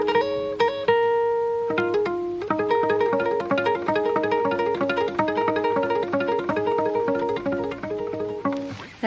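A plucked string instrument muted with press stick gives a dry, woody, marimba-like tone, playing a quick repeating rhythmic pattern of short notes, close and alone.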